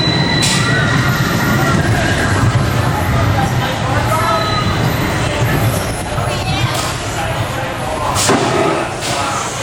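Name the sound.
roller coaster trains running on the track, California Screamin'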